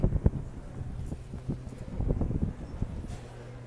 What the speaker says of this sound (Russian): Ветер дует, он такой